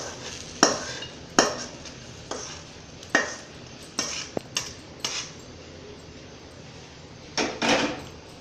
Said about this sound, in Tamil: இப்போ பாத்திரத்தில் மாற்றிக்கோங்க